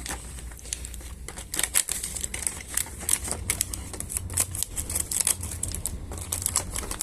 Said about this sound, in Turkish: Ürünün ambalajını açıyorum.